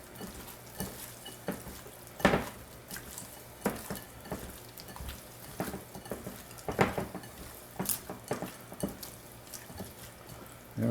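Shrimp being tossed in a bowl of garlic and lemon marinade, with repeated wet stirring scrapes and clinks at an uneven rhythm, close up, no speech.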